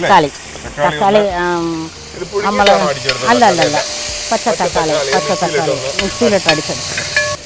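Tomato puree sizzles and hisses in a hot pan for a fish head curry in coconut milk, under loud, lively talk from people nearby.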